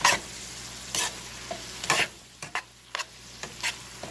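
Noodles for hamburger lo mein being stirred and tossed in a hot pan, with a steady low sizzle under a series of sharp scraping and clacking stirring strokes, close and distinct.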